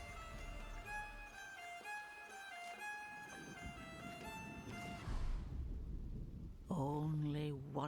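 Rain and rumbling thunder from a storm in the video game Diablo 4 roll on steadily beneath a background music tone, swelling in the latter half before a voice speaks at the end.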